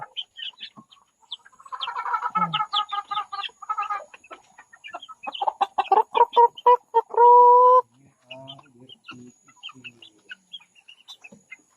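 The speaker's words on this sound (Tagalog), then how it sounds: "Ito naman yung manok. Mga manok ng kapatid ko." Chickens cluck and squawk close by in a busy run of calls, with a longer drawn-out squawk near the end and a brief murmur.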